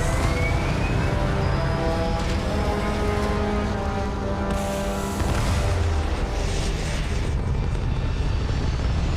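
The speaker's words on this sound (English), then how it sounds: "Thrusters firing." Spaceship thrusters firing in the game Starfield: a steady, loud broadband roar with deep low rumble, continuous throughout with a brief surge midway, no talking.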